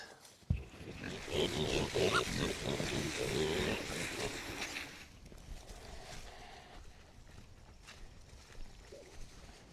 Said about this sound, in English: So we'll hang out with the pigs for just a little while